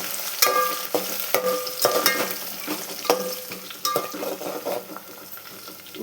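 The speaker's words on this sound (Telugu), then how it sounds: "చూడండి ఆనియన్స్ గోల్డ్ కలర్లో ఫ్రై అవుతున్నాయి కదా" Onions with mint frying in a pan for a village-style chicken curry, a soft continuous sizzle broken by repeated scraping stirs of a utensil against the pan, fairly close and alone.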